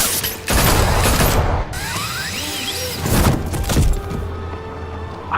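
Gunfire in the video game Batman The Telltale Series, loud rapid volleys of shots mixed with crashing and shattering impacts, close and dense for several seconds, with no talking.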